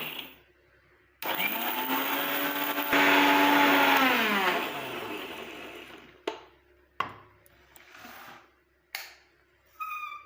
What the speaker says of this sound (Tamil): சின்ன ஜாரில் போட்டு பண்ணிங்கன்னா நல்லா நைஸ் பவுட்ரு